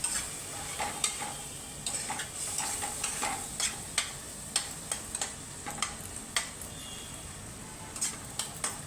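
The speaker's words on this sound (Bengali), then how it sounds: "মশলাটা কষিয়ে নিচ্ছি।" Pav bhaji masala fries in oil in a pan while a spoon stirs it, giving a soft, steady sizzle with regular scraping ticks roughly every half second, quiet and with no one speaking.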